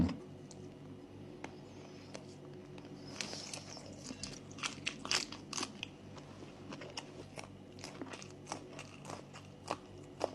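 Someone eating hot Isan sausage off a skewer, with soft, close biting, crunching and chewing sounds that grow more frequent over a quiet background.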